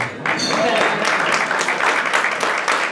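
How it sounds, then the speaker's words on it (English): Audience applause during a film festival programme launch speech: a full, even spread of clapping from a crowd that swells in quickly and holds steady for a few seconds. "That deserves a round of applause."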